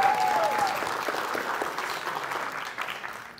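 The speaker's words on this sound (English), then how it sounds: "Now y'all can clap for her too" A church congregation claps for a woman called up front, a full round of applause that starts strong, slowly thins, then briefly swells again before fading.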